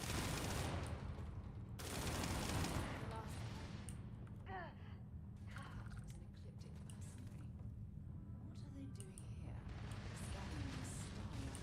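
Gunfire from NPCs fighting each other in Starfield, a steady fusillade of shots and bursts running throughout at moderate distance, with a voice talking over parts of it.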